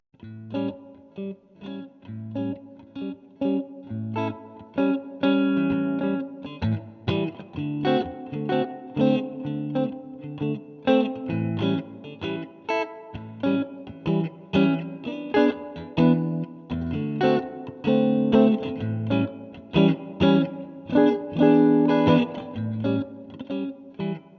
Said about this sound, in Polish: A oprócz tego akordy dominantowe bardzo często grane są w bluesie.